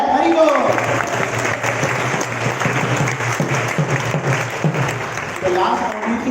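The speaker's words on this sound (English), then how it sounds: "Let's clap for that" An audience at a temple gathering in Toronto claps together, steady and fairly loud throughout, with a voice briefly audible at the start and end.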